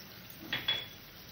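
A lid goes onto a pot of fenugreek katla fish curry with two quick, light metallic clinks close together, in an otherwise quiet kitchen.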